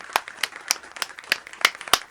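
Hands clapping, a steady run of about eight crisp, close claps spread evenly over two seconds, dry and fairly loud, with no voices.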